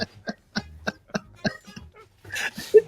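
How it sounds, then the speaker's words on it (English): A series of short, sharp coughs in a regular rhythm, followed by a brief breathy rasp, fairly close and moderately loud. "It sounded like it started coughing there."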